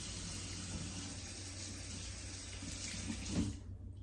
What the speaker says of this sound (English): you're going to need to drain it in the sink